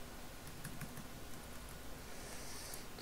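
Computer keyboard typing during panorama editing work, with scattered quiet key clicks over a steady low hum, faint and close.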